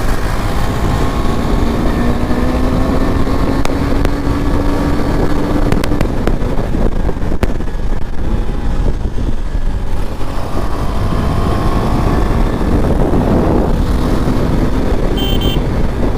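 A KTM Duke 390 motorcycle ridden on an early morning road, its engine droning steadily with rising and falling pitch under heavy, constant wind rush at the microphone, with a few brief passing-vehicle swells.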